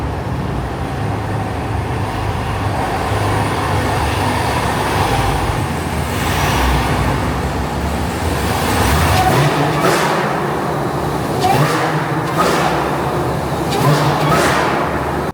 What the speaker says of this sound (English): It is the Cadillac CTS-V, the all black super loud car.